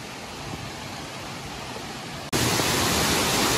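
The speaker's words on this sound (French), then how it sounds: "La cascade du bout du monde." Waterfall known as the cascade du bout du monde, north of Châlons, heard as a steady broadband roar that jumps abruptly louder partway through, as if drawing closer, with no talking.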